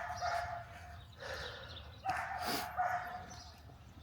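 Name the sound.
dog barking in the background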